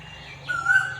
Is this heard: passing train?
no